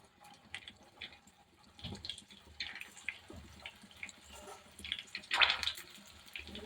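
Gobi manchurian is dropped into hot oil and fries with a soft, crackling sizzle and bubbling, faint and close, with a brief louder burst partway through.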